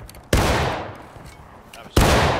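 Two massed musket volleys in the Civil War game War of Rights, each a sudden loud crack-roar of many rifles firing together, spaced under two seconds apart, with a long rumbling decay between.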